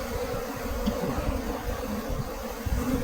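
Honeybees buzzing around an open hive during an inspection, a close, continuous low drone of many wings with no voices.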